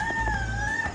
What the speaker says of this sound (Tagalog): Medyo tumitila pa po yung manok.